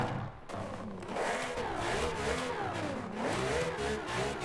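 A racing V12 engine fitted to a Brabham BT62 in the Forza Horizon 5 racing game, revving in steady rising and falling sweeps, loud, close and continuous, with no talk over it.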